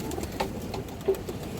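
Homer pigeons coo softly at a pigeon seller's, a few low throaty coos spaced irregularly over a faint background hum, fairly close but quiet.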